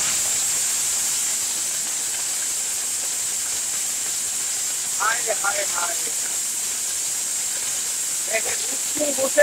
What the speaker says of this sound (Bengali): ব্লেন্ডারের কাজ দেখেন।